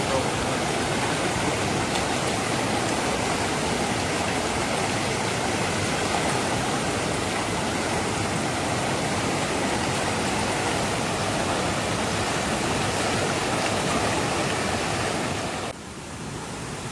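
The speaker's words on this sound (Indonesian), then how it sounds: "nih sungai terakhir yang akan kita seberangi" Rushing water of a mountain river on a hiking trail, a steady broadband roar that stays loud and close throughout before dipping slightly near the end.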